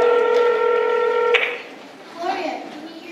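Cell phone dialing tones beep steadily for about a second and a half, then cut off, followed by faint background voices in a school concert setting.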